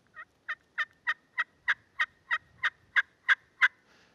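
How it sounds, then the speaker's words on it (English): A friction pot or slate turkey call played with a C-shaped stroke gives twelve evenly spaced, raspy yelps that grow a little louder through the run. The yelps are close and clear, with no talk. "when you do a C, it makes the call yelp better than scratching back and forth, straight back and forth"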